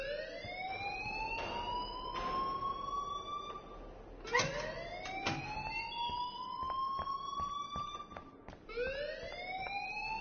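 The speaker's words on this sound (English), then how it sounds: "please turn off that alarm since that's your job" A wailing siren-like alarm rings in the Life is Strange video game, rising and falling sweeps repeating several times, loud and steady over a low background hum with no talk.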